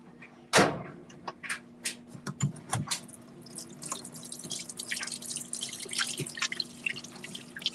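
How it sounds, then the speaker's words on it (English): Water splashes and drips at a sink during hand washing, close and fairly quiet, in irregular bursts, with a sharp thud like a door near the start and no talking. "Wash my hands."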